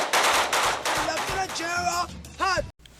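AK-47 rifle fire in a rapid automatic burst, loud and close, then trailing into tonal sounds and a brief voice-like sweep before cutting to silence.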